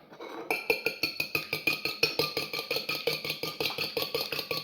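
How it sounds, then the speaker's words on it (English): Egg being whisked briskly in a bowl, a steady run of rapid, evenly spaced metallic clinks close by with no talking. "I like to have egg, which I'll whisk up."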